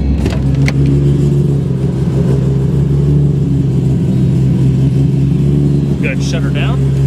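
1997 Nissan Skyline GT-R V-Spec R33 with its engine running at a steady, loud idle, a deep continuous hum close by, with faint brief blips toward the end.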